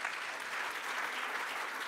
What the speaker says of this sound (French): Vous pouvez les applaudir tous.